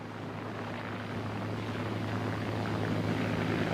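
Piston-engine propeller aircraft of the WWII era throttling up for takeoff at up to 61 inches of manifold pressure and 3,000 RPM, a loud steady engine drone with a low hum that builds slightly and continues without a break.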